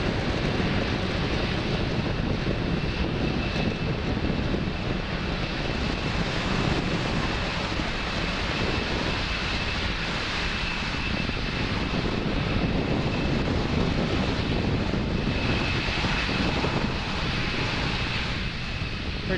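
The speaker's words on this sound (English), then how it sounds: "Falcon 9 clearing the tower at Space Launch Complex 40 and making its way to orbit." A SpaceX Falcon 9 rocket roars on liftoff from Space Launch Complex 40, a loud, continuous, broadband rumble holding steady throughout with wind buffeting.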